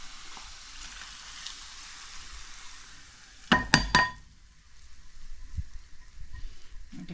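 Urad dal (black gram) sizzling as it is stirred in a hot pan at home, with a steady frying hiss throughout and a brief cluster of louder sharp clatters and splutters midway, then quieter frying with soft scraping.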